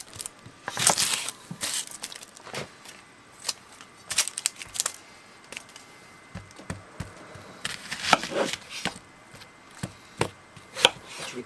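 Onion is chopped on a cutting board with a knife in irregular bursts of sharp, close taps, some rapid runs and pauses between, in a quiet kitchen.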